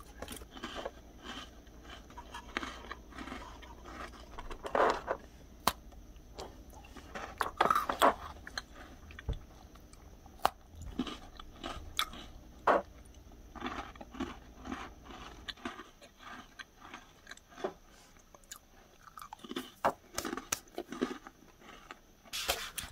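Homemade chocolate is chewed close to the mic in a quiet room: soft, irregular bites and crunchy mastication clicks repeat steadily with small pauses, faint and without speech.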